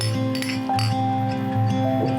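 Glasses clink together in a celebratory toast among family members, a couple of bright chinks over a steady low musical bed.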